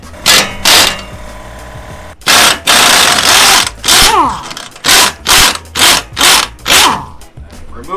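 A power tool loosens the upper control arm bolt on a Ford Maverick during a lift kit install: loud, repeated bursts of ratcheting impact-gun whirring, each lasting under a second, with short pauses between.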